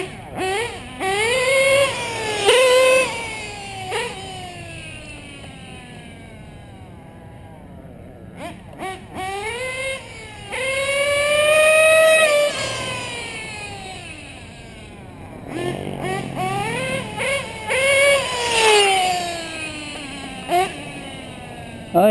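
A modified Novarossi P5XL nitro RC car engine screams close by, its high pitch sweeping up and down through repeated revs with a buzzy idle between them.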